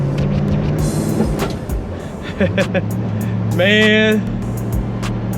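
A 1967 Chevelle SS drives along with a low, steady engine rumble inside the cabin, while people talk over it and a brief tonal squeal sounds near the end.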